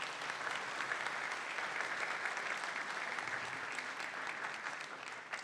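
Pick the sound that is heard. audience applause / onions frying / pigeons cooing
audience applause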